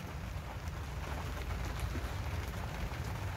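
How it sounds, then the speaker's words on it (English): Steady rain pattering on a roof over a garden plot polytunnel area, a dense continuous hiss of drops with scattered close ticks and a low rumbling background throughout. "listen to the patter of the rain on the roof"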